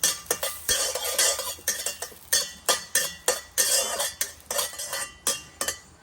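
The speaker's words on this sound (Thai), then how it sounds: "พริกแห้งนะครับคั่วในกระทะเลย" Dried chilies are dry-roasted with a little oil in a wok over very low heat, a metal spatula scraping and clanking against the wok in a steady series of loud, close tossing strokes.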